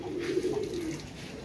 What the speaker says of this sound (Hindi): ये जी ग्रिल के पीछे कबूतर चले गया, और बच्चा भी गायब हो गया मुनसफ भाई।